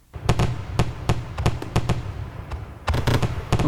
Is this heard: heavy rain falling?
no